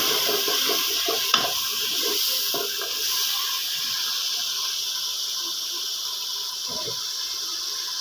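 Spice masala frying in a pan with a little added water, a steady bright sizzle and hiss throughout, with a few soft stirring scrapes near the start.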